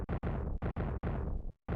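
Several heavy explosions rock a stadium in a video game, arriving as a rapid string of about six loud booming bursts, each one cut off sharply before the next.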